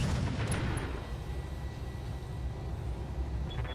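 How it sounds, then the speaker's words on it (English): Heavy Gauss rifles discharge in the RogueTech mech game against a Heavy Gauss emplacement: a sharp burst near the start, then a steady rumbling low drone with faint high pings, no talk. "we're just going to hit this Heavy Gauss emplacement with our own Heavy Gauss rifles"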